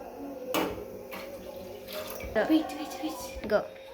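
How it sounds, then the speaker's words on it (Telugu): Water is poured from glasses into a pot for cooking Maggi noodles, several short splashing bursts close by, interspersed with a person speaking. "మ్యాగీ ఎంత ఉందో దాన్ని బట్టి వాటర్ పోసుకోవాలి"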